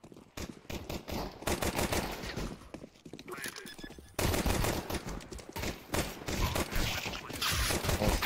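Gunfire in a fast online shooter match, with rapid automatic bursts and single shots repeating throughout, loud and close, mixed with footsteps and other game effects while players talk over it.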